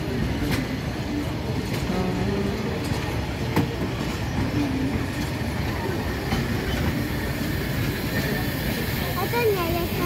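An Lxd2-334 railcar runs at Bachórz station with a loud continuous rumble, rhythmic wheel clatter and occasional brief squeals, close by, while people talk underneath.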